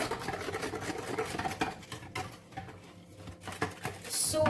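Leche flan ingredients are mixed by hand in a bowl, giving soft, close patters and light stirring clinks that come in uneven bursts, with a short quieter stretch before picking up again.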